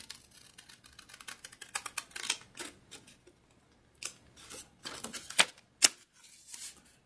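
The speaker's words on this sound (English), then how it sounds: "So what we'll do now is we'll cut it" Scissors snip through a paper strip in a series of sharp, close clicks and cuts, irregular and separated by brief pauses, with no talk.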